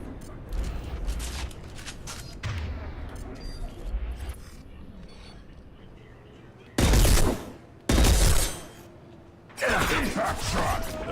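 Gunfire in Mass Effect 2 with an impact shot: loud broadband bursts of shots and explosions come in three heavy blasts near the end, with ongoing combat noise throughout and someone talking over the start.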